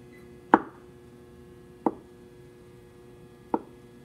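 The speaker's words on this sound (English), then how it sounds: "Chop the egg. You want some nice slices." Three separate knife chops through a boiled egg onto a cutting board, each a sharp close thud spaced over a second apart, with a faint steady hum underneath and no talking.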